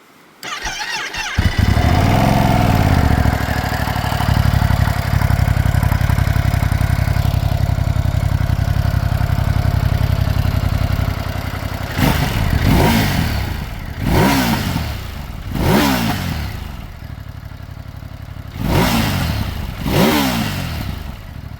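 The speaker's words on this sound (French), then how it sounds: "je vais vous faire écouter un peu le bruit de la moto" A Ducati Hypermotard V2 motorcycle starts and idles with a steady, loud thrum, then several sharp throttle blips rev the engine up and let it fall back repeatedly.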